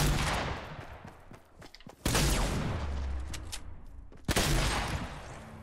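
Rapid bursts of gunfire in the Fortnite battle royale game, loud and dense, with two sharp blasts cutting in mid-sequence amid continuous crackling shots and no talk.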